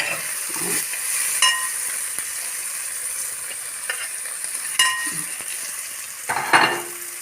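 Ingredients for an idiyappam stir fry sizzle steadily in a pan, a constant frying hiss broken by occasional clinks and scrapes of a utensil stirring.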